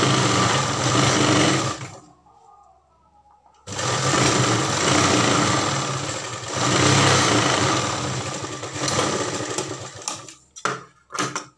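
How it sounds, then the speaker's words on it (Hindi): A foot-pressure sewing machine stitching a strip onto a garment sleeve, a loud close whirring run that stops briefly, starts again, and ends in a few short bursts. "एक पैर का दबाव लेते हुए हमें सिलाई इसमें लगा देनी है"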